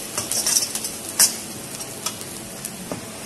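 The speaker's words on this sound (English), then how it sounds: "then I am going to add the garlic. Saute the garlic lightly" Garlic sautéing in a hot pan for a Chinese dish, giving a soft steady sizzle with quick stirring scrapes and a few light utensil clicks against the pan.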